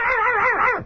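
A voice imitates a yappy dog with a single short, strained, whining yelp, close and loud.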